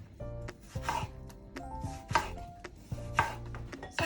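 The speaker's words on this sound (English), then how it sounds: "we're gonna peel our apples. We're just gonna slice them." Apples for apple pie are sliced with a knife on a board, giving a quick series of close crisp cuts and soft knocks in an uneven rhythm, alone and fairly quiet.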